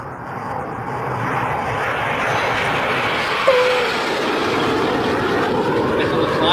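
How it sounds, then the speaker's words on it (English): Steady, loud drone of an airplane cabin in flight, a broad unbroken engine roar filling the whole stretch with no talk over it. "Back on the plane, heading back to Australia"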